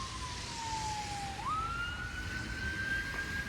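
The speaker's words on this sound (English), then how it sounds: "That's an ambulance." An ambulance siren wails continuously, its tone sliding down and then jumping up to a higher steady pitch, heard over traffic noise on a snowy Toronto street.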